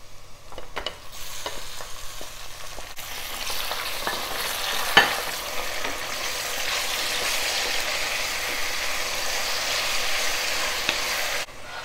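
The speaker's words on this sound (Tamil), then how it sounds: "தேவையான அளவு சால்ட்டு போட்டு நல்லா கிளறி விட்டுக்கலாம். தக்காளி நல்லா வேகட்டும்." Chopped tomatoes fry with onion in a pan for tomato rice, a steady loud sizzle with clinking spoon stirs near the start, close up and with no voices.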